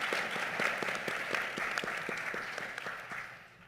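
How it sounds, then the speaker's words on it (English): An audience at a youth mental health symposium applauds its panelists, a steady wash of clapping across the room with distinct nearby claps, easing off toward the end. "Let's give our panelists a round of applause,"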